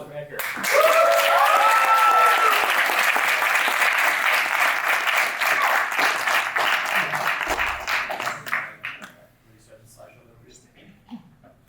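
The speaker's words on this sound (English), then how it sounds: "Round of applause for Edgar." An audience at a university music composition recital breaks into applause for a performer named Edgar, a dense, loud wash of clapping with a few cheers that runs for several seconds, then thins out and fades to scattered claps.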